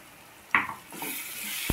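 A spoon scrapes through green peas masala curry in a pan, with a sharp clink at the start, a soft sizzling bed underneath and a brief tap near the end.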